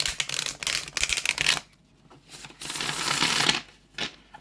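Tarot cards are shuffled in crisp riffling bursts, two longer bouts separated by a brief pause, with a short final flick, close and fairly loud.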